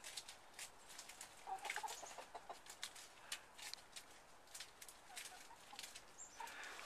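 Hens in a coop cluck and peck at broccoli plants in a run of soft, scattered calls and short bursts, fairly faint and close by, with no talking.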